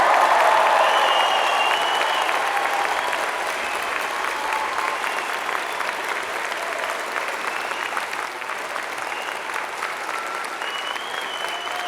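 A large audience at a university spring convocation ceremony applauds the graduating class in sustained, dense clapping that starts strong and continues steadily without fading, with no voices on top.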